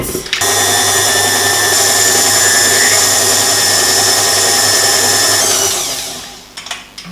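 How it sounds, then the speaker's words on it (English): An electric mixer whisks pumpkin spiced cupcake batter ingredients, a loud, steady motor whine that starts abruptly, holds evenly for several seconds, then winds down to a few faint clatters at the end. "And you just want to give them a little bit of a whisk just to incorporate them."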